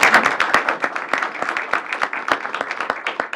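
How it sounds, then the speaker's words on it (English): A modest group at a city council meeting gives a short round of applause, individual claps distinct and close, with a little talk mixed in. "a round of applause for"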